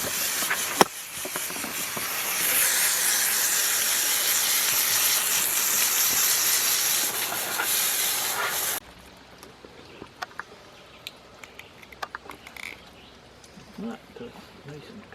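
A loud, steady spray hiss runs continuously for several seconds, then cuts off abruptly, leaving quiet room noise and a few faint clicks.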